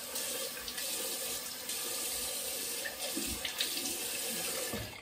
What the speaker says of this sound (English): when I rinse cold water